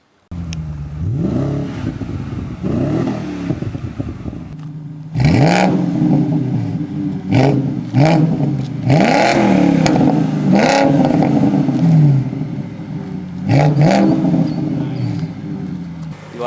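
Close, loud throttle blips from a BMW 550i fitted with a custom dual exhaust, rising in quick repeated revs over a rumbling idle, with a steady run of pops and surges through the middle.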